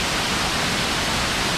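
Steady broadband roar of the waterfalls at San Carlos, Antioquia, Colombia, continuous and full without breaks, with no voices over it.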